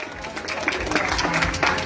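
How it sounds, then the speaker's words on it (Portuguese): A family claps together at a birthday celebration, a dense, continuous patter of hands lasting the whole moment with some voices mixed in. "Pode bater palmas aí, pessoal!"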